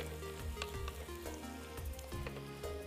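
Ginger, garlic, green chili and onion sizzle steadily in hot oil for an Odia dish, a close, continuous frying crackle with light stirring and background hum, no talking.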